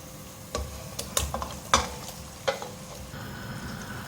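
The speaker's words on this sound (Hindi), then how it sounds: "अब इसमें ये मैरिनेट किया हुआ मटन डालूंगी मैं" Marinated mutton hitting golden fried onions in a hot pan, a close sizzle broken by several sharp clanks and scrapes of stirring, with no talk.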